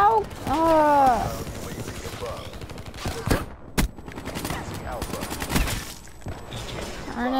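Gunfire rattles in Call of Duty multiplayer as repeated bursts and single sharp shots, some near and some farther off, while a person talks over the action.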